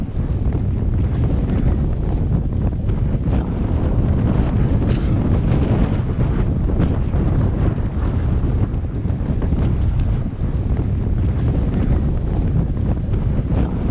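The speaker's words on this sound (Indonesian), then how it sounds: "angin tiba-tiba berubah menjadi sangat kencang" Strong, gusty mountain wind on Mount Agung buffets the microphone in a loud, continuous roar with surging gusts throughout, no voices present.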